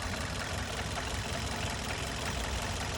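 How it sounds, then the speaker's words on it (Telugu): A petrol engine in a Swift car runs steadily at idle with a dense, rattling knock throughout, loud and close with no voices. "ఇంజిన్ నాకింగ్ సౌండ్ అంటారు దీన్ని"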